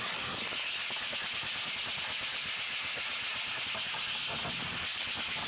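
Hand sanding with 220-grit sandpaper smooths paint drips on sprayed cabinet doors, a steady rasping hiss with quick back-and-forth strokes, close and continuous.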